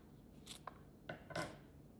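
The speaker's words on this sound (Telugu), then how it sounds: "ఇలా కట్ చేసేస్తాను." Banana peel is cut into thin strips, producing a few quiet, crisp snips or chops spaced over about two seconds, close up with no voices.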